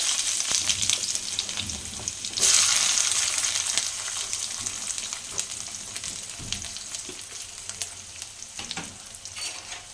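Chopped onions dropped into very hot oil with mustard seeds and cumin hiss up into a loud, steady sizzle with a sharp surge as they go in, then a continuous crackling fry with occasional stirring.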